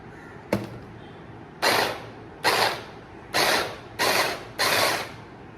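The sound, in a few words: mixer grinder grinding onions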